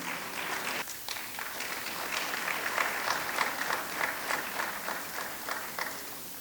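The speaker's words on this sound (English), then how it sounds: "Can we have a huge round of applause?" Steady applause from a conference audience at a taxes and compliance event, a dense wash of many hands clapping that holds at an even level throughout.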